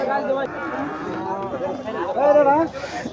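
A Friesian calf moos with drawn-out bellowing calls amid a busy crowd at a cattle market, voices talking nearby.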